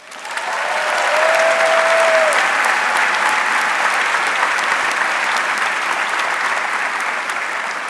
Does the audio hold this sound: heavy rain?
no